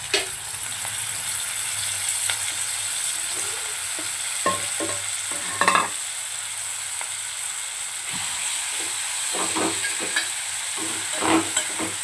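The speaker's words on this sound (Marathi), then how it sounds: "अशा पद्धतीने मटण छानपैकी आपण असं परतून घेणार आहोत" Mutton for Hyderabadi dum biryani is stir-fried in a pan, giving a steady close sizzle with scattered scraping stirs and clinks of the spoon against the pan.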